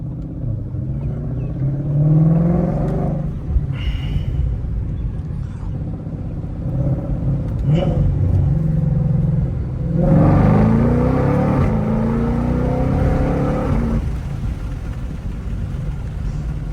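Shelby GT500 in sport mode on a Chicago street: a deep, steady engine rumble rises and falls in a few gentle rev swells, close and loud, with no one speaking.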